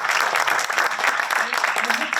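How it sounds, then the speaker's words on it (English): An audience at a film Q&A claps in a dense, continuous burst of applause, close and lively, lasting a couple of seconds. "I think that deserves a round of applause"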